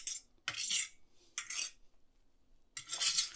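Oil being spread around a preheated Lodge cast iron skillet before bacon goes in, three bursts of close metallic scraping and clinking separated by short silences.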